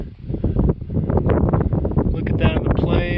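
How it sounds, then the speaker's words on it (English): Strong gusting wind at Devil's Tower roars and buffets the microphone in a continuous low rumble, with brief surges throughout. "It's gusting pretty hard on this side."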